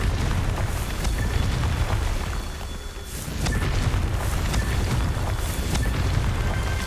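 Spell blasts in the Hogwarts Legacy video game form a continuous, loud rumble of booming bursts with crackling pops layered over it, dipping briefly midway before surging again.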